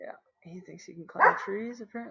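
A dog barks a few times in the background, mixed in with a person talking over it at close range.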